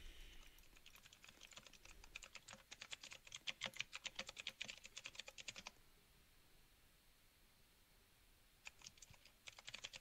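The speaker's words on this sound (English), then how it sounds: "I can hear you typing" Rapid keystrokes on a computer keyboard during a livestreamed game session, a fast burst of typing for several seconds, then a quiet gap before another short flurry, fairly faint and with no talking.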